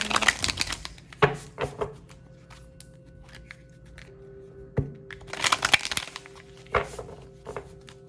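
Crisp flicks and riffling snaps of tarot cards being shuffled in quick clusters, with quieter handling between bursts; no voices.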